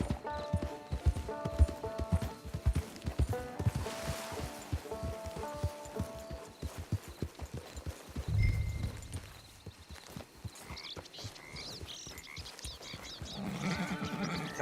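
Horse hooves clip-clop steadily in Red Dead Redemption 2, a rhythmic trotting beat with a brief whinny-like burst midway, under faint game ambience.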